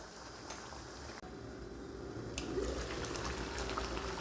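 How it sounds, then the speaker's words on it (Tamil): Tomato thokku simmering in a covered pan as the tomatoes soften and break down in their own juice, giving a steady, close bubbling hiss with no talk. "இப்போது நல்லா தக்காளி வெந்து வதங்கிட்டு இருக்கு"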